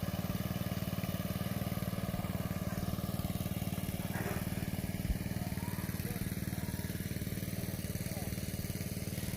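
A small engine on a pesticide spraying machine on a farm runs at a steady fast idle, an even rattling drone throughout, with faint background noise.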